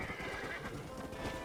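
A horse whinnies over the clatter of hooves in Red Dead Redemption, dense and continuous, with a slightly synthetic, game-like tone.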